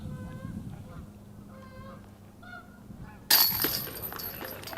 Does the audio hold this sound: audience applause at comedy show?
no